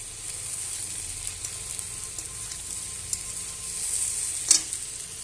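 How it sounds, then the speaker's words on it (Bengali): Curry being stirred in a pan, giving a soft, steady sizzle with light scraping taps and a sharper clink near the end. "তো একবার আমি নেড়ে দেবো"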